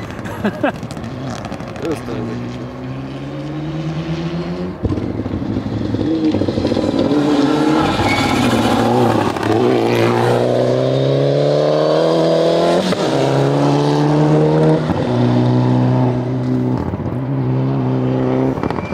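A rally car engine with an anti-lag system revs hard and changes gears close by, with sharp popping backfire bangs in the exhaust, while people talk over it.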